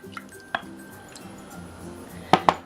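Milk, butter and honey go into a small saucepan for English muffin dough, with a few sharp clinks and knocks of a pot and utensils over a quiet kitchen background, no talking.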